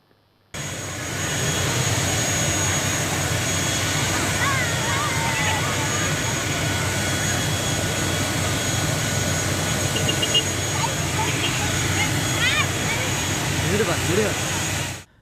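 The jet engines of a passenger airplane on a 1.5-hour flight from Salem to Kochi make a steady, loud cabin roar and hum that drones on unbroken throughout.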